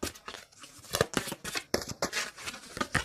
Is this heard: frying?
no